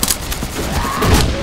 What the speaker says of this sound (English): I got a sawed-off shotgun.